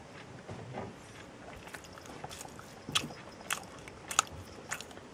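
Biting and chewing Little Debbie Pecan Spinwheels snack pastry, a few soft crunchy bites and quiet chewing close to the mic, faint overall.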